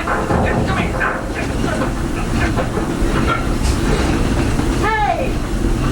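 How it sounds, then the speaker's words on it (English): A Walt Disney World Railroad train rolls along with a steady rumbling hiss and faint clatter, mixed with lively voices and a short rising whistle-like tone near the end. "that's not a snake. It's a train."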